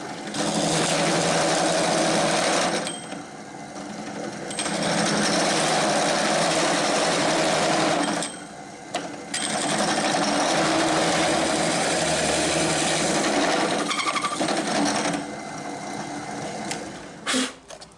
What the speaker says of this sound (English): since we're cutting into plastic, I'm going to be doing kind of a rocking motion, that way we don't gum anything up